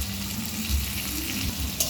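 Pieces of bottle gourd fry in a pan with salt and turmeric, making a dense, continuous sizzle at close range that holds steady for the whole brief stretch.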